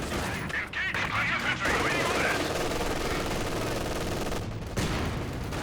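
Machine gun fire in a Company of Heroes 2 battle, with rapid rattling bursts and scattered gunshots under a busy battlefield din and some talk.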